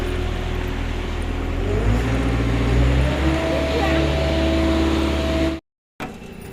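An e-rickshaw pulls away with a steady motor hum and rumble that shifts in pitch as it moves off, under people talking nearby, then a short dropout near the end.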